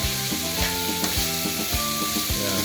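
Liver sizzles and crackles steadily in a hot frying pan, close up, with rhythmic scraping as it is stirred and turned.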